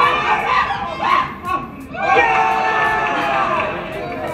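Excited crowd of students at a school esports video game match, loud roaring and cheering that swells in bursts, dips briefly near the midpoint, then rises into sustained loud shouting.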